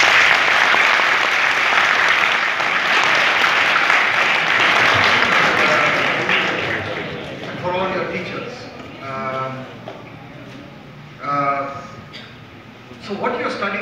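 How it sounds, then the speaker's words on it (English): Audience at a Russian medical university in Kursk applauds the rector and faculty, sustained broadband clapping for about seven seconds that fades, followed by someone speaking with scattered claps. "I think we should join in a round of applause for the rector and for the faculty."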